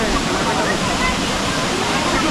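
Steady, dense roar of a large waterfall in the Western Ghats jungle of Karnataka, India, loud and close, with continuous broadband rushing water and no pauses.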